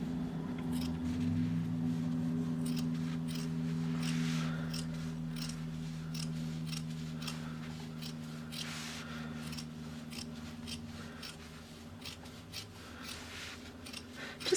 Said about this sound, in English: So I'm just going to trim back that seam allowance a bit.